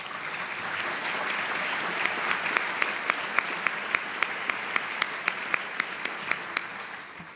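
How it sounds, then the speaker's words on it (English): An audience at a community address on the state of Greater Springfield applauds with a sustained wash of clapping, while one nearby pair of hands claps in a sharp, regular beat over it. "please stand up so we can applaud you for your hard work"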